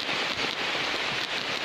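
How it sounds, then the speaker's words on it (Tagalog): Steady, dense rainfall hissing across a broad range, constant and close with no pauses or voices. "malakas kasi ang ulan"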